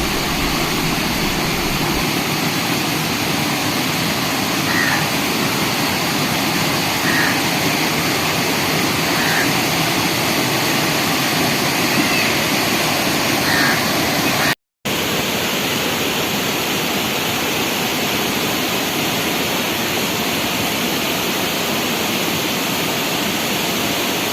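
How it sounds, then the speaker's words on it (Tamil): Thalakkuthu waterfall near Oddanchatram gives a dense, unbroken roar of falling water, loud and close throughout, with only a momentary dropout partway through. "நீங்கள் இப்போ பார்க்குற இந்த அருவியோட அழகை பார்க்குறீங்க"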